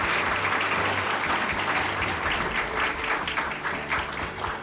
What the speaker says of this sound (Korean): 다시 한번 큰 축하의 박수를 부탁드립니다.